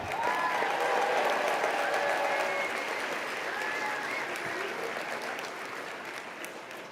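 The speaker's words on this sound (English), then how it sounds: "So let's have a round of applause for our head table." Banquet guests at a 2025 national convention applaud the head table, a dense, sustained wash of clapping from a large crowd, loud and steady throughout, with faint voices and cheers mixed in beneath it, easing slightly toward the end.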